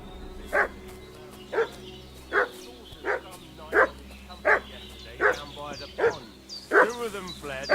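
Dog barking in the video game Kingdom Come Deliverance 2, about ten loud evenly spaced barks close by over a low steady outdoor hum, with a voice faintly present.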